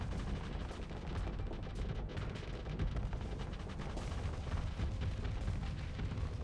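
Torpedo blasts and weapons fire in a Starsector space battle, a dense, continuous rumble of overlapping booms and crackling impacts at steady loudness with no pauses.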